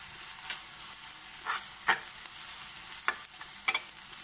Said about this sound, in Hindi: फिर उसमें पेपर पाउडर डाल लीजिए, उससे थोड़ा सा ऐसे फ्राई कर लीजिए